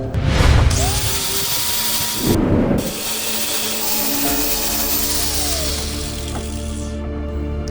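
A power tool cuts into a metal water tank float valve, a loud, steady high whine with brief pauses and grinding bursts near the start, continuing without speech.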